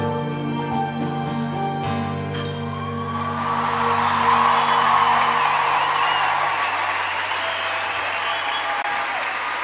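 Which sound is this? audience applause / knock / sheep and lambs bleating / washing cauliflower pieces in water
audience applause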